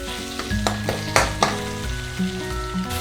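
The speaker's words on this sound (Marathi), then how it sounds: "टोमॅटो आणि कांदा लवकर शिजला जाईल यासाठी मी मीठ घातलेले। तर 2-3 मिनिटं आपण आता परतून घेऊया।" Salted tomato and onion sautéing in a pan for spicy chicken curry, a loud close sizzle with several quick stirring scrapes at an uneven rhythm, and nobody talking.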